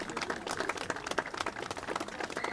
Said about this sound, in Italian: Lungo applauso al Toti Patrignani